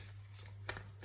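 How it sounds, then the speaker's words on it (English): Tarot cards being pulled from a deck, a brief soft riffle and flick of card stock close by, quiet over a low steady hum. "we are gonna pull some cards"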